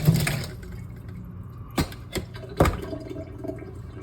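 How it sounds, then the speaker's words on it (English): Syrup from canned sweet potatoes draining out, a soft liquid pour followed by a few distinct splashes and glugs, close and quiet. "Too much syrup stuff, so I'm gonna just drain that out before I mash it up."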